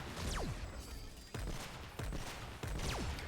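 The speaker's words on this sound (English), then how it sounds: "It's a burst sniper" Burst sniper rifle fired in Fortnite Save the World, with three or four sharp shots in close succession, each followed by a short falling whine, set against a steady game background.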